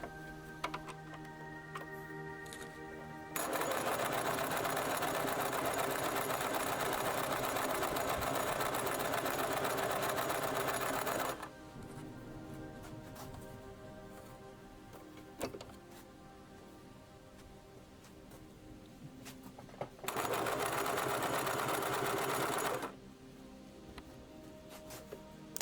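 A sewing machine runs in two bursts of rapid mechanical whirring, separated by a quieter pause with faint ticking, no voices.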